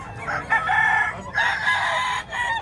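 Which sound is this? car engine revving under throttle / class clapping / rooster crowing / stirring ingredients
rooster crowing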